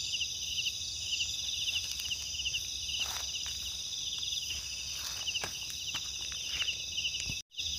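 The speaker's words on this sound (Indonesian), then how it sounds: "hanya ada suara jangkrik teman" Steady, dense chirping of crickets at night around a forest hut fills the scene continuously, with faint scattered rustles underneath and no voices.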